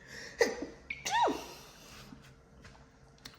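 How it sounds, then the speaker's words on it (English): A quiet room, then a sharp sneeze burst followed by a second explosive sneeze with a falling vocal tone, close to the microphone. "I gotta sneeze."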